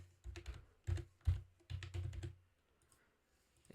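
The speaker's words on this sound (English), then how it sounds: "Go to texts and type your text." Keys tapped on a computer keyboard in a few quick bursts of clacks, close and fairly quiet, then a trailing pause of near silence.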